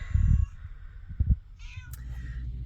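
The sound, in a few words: cat meowing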